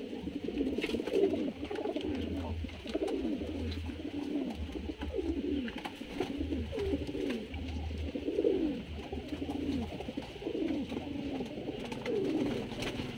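Songkop pigeons coo in a steady, repeating series of low, rolling calls that rise and fall, with softer coos overlapping in the background and a faint low hum underneath.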